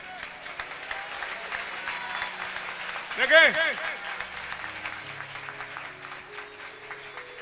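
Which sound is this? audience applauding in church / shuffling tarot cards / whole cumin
audience applauding in church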